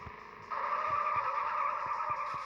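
Car braking hard and skidding in a video game, a sustained tire screech that starts abruptly and holds steady over a low engine rumble with rhythmic thumps, fairly quiet and with no talk.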